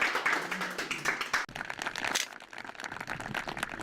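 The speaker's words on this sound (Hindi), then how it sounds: "जोरदार तालियां इनके लिए बजा दीजिए" Studio audience at a televised farmers' quiz show claps for a winner, a dense loud burst of hands clapping mixed with crackling texture, continuing strongly then settling slightly.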